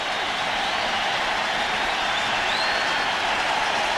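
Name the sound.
crowd noise at Turner Field, Atlanta baseball game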